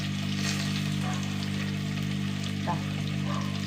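Onions sauté in a pan with a steady, even sizzle that runs unbroken and close throughout, plus a faint stirring scrape partway through.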